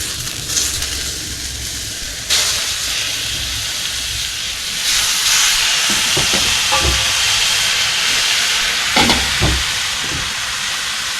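Avocado oil hissing and sizzling in a wok that is cooling down, a steady broadband hiss running the whole time with a few sharper crackles and pops breaking through near the end; no one talks.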